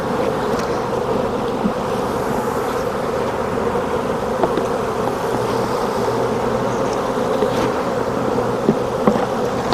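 Honey bees swarm and fly out around an opened hive during a mite wash inspection, making a dense, steady buzzing hum that is loud and close throughout, with no voices.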